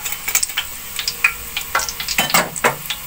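Crackling and sizzling of spices tempering in hot oil for chana pulao, with bursts of popping and a few soft stirring clicks, close and steady.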